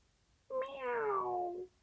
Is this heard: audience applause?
no